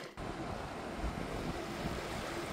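Brushy Creek flows at the Big Brushy Recreation Area on the Ouachita Trail, giving a steady broadband rush of water that is fairly faint and continuous, with no voices.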